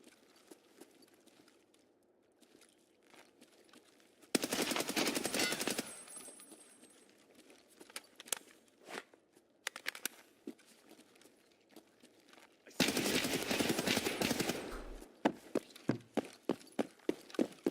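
Automatic gunfire in the combat game Escape from Tarkov comes in two long loud bursts, with scattered single shots and clicks between them and sharp pops at the end, and no talking.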